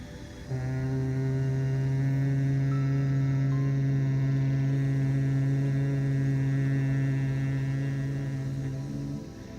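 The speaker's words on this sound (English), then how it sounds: "A second one, chin down, exhaling, humming." A person hums on a long, steady exhale during a seated yoga breathing exercise, one sustained low tone held for about nine seconds at close range, with no speech.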